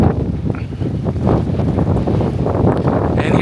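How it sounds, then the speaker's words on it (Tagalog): Strong outdoor wind gusts buffet the microphone, producing a loud continuous low roar that swells and eases throughout. "It's just windy."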